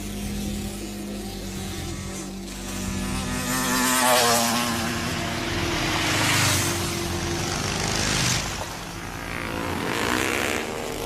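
Motorcycle engine in an action film scene, a droning, revving roar that swells and fades in waves, loud and close, with no talk over it.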